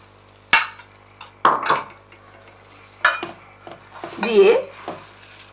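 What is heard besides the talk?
stirring jaggery mixture into khoa in a pan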